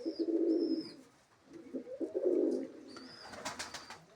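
Female pigeons inside a dim loft on a cloudy day give repeated soft, rolling coos close by, with a few thin chirps near the end.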